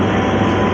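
A Bangaon local train leaving Bangaon Junction rolls along with a loud, steady rumble and a broad roar, heard close up from on board and without speech.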